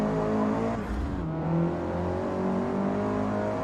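Race cars in the Forza Motorsport video game give a steady, loud engine drone throughout, with a brief dip and surge partway as the engine note shifts.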